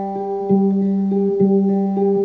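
Sustained guitar tones ring on one G pitch, with three evenly spaced plucks re-striking the note on three different strings, clear and close with no voice.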